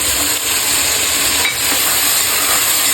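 Onions and ginger garlic paste frying with whole spices in a pan, a steady loud sizzle with stirring scrapes throughout, close and continuous without talk.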